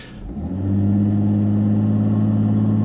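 A 2015 Volvo V60 T6 in sport mode launching hard from a standstill, its engine swelling quickly into a loud, steady drone with strong low harmonics, close from inside the cabin.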